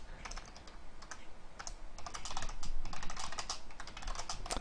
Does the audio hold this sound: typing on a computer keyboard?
yes